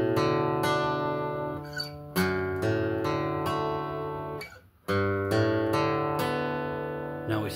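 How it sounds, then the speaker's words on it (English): Electric guitar chords for a song picked one note at a time, each arpeggio ringing out and then restarting with a fresh pluck, about eight struck chords spread over a steady, close, moderately loud take with no talking. "So it sounds, the chords so far sound like this when you arpeggiate them."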